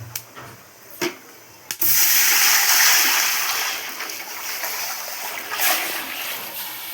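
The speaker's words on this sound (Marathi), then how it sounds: "पाणी ओतणार आहोत" A few clinks, then water hits a hot pan of fried spices for chicken biryani with a loud sudden hiss and sizzle that slowly fades into steady bubbling.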